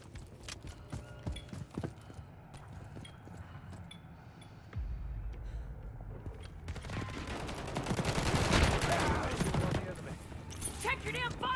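Gunfire from the video game Call of Duty, scattered shots and mechanical clatter growing into a loud, dense firefight with explosions around the midpoint, under shouted voices and radio chatter.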